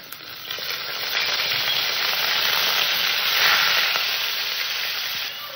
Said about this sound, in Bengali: পেঁয়াজটাকে আমি একটু হালকা সোনালি করে ভেজে নেব